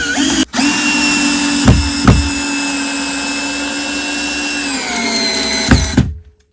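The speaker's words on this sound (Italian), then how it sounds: "proviamo un altro avvitatore per farvi vedere la differenza" Parkside 12V cordless screwdriver drives a screw: a steady, loud motor whine runs for about six seconds, rising briefly at moments as the screw bites, then winds down and stops.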